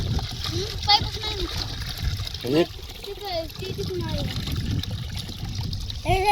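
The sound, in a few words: irrigation water flowing in a sugarcane field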